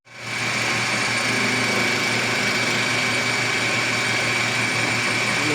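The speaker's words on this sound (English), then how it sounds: "let's clean it up on the lathe" A lathe machines a metal cam shaft gear for a Subaru Impreza, humming in a steady, continuous whine with a constant high tone that starts abruptly and holds at even loudness throughout.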